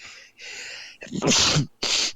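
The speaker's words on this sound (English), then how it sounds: "He sneezed himself clean off the camera." A person sneezes loudly and close, a sharp explosive burst preceded by a gasping intake of breath, with a second shorter sneeze-like burst right after.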